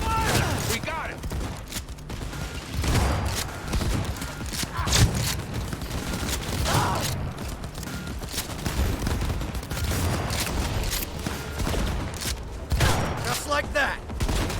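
Rapid gunfire rattles through a Cyberpunk 2077 firefight on PS5, bursts repeating across the whole stretch amid shouting voices and dense combat noise.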